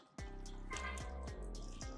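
Water rinsing car shampoo off a car's bodywork, heard as a steady wet splashing with a few sharp dripping hits, close and continuous for about two seconds with no talking.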